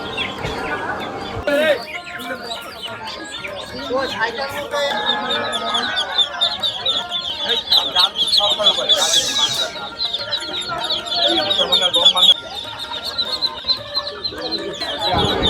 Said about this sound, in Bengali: ভিন্ন জাতের এই মুরগিটার দাম চাওয়া হচ্ছিল বেশ চড়া দামে।